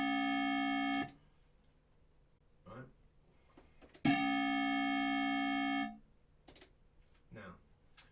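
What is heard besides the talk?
synth bassline made with Ableton Live Operator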